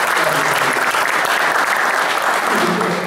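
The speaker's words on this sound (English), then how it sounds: "So round of applause for Ruth and Simon for making it all trip." A large audience at a barbecue competition event applauds in a dense, continuous wash of clapping that holds steady throughout.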